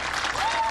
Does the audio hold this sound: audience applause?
yes